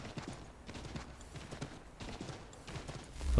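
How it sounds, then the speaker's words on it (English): Horse hooves clip-clop at a steady galloping rhythm in Assassin's Creed III Remastered, a continuous run of hoofbeats at moderate loudness, with a brief louder burst at the very end. "Sprinting on a horse"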